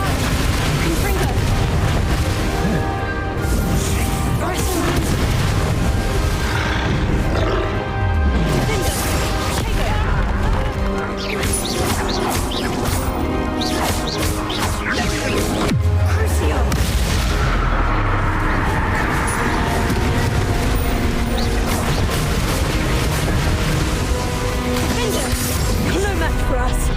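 Repeated booming blasts of the Confringo fire spell in Hogwarts Legacy on Nintendo Switch, loud explosions layered over battle effects and music, with characters speaking throughout.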